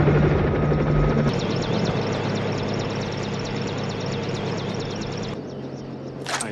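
An army helicopter drones loudly and steadily overhead, its rotor thumping and engine whining, then the sound drops off near the end.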